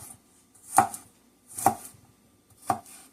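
Garlic is chopped on a board into long julienne strips: three distinct knife chops, spaced about a second apart, sharp and close in a quiet room.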